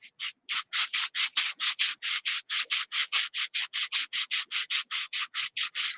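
Worn sandpaper rubbed back and forth on wood in a steady, fast rhythm of about two dozen close, loud strokes with no talking.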